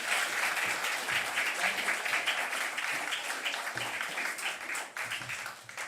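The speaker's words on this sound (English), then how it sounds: "another round of applause for both of our speakers today" A conference audience applauds its speakers, sustained dense clapping from a roomful of people that carries on steadily and tapers slightly toward the end.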